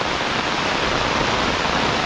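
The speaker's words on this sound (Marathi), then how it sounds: "पाऊस आज भरपूरच आहे," Heavy rain pours down in a dense, steady hiss that is loud and unbroken throughout, with no voices.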